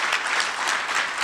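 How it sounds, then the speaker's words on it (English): Steady applause from an audience at a chainsaw and arborist safety presentation, a short continuous wash of clapping at moderate volume. "Give Rich one more round of applause."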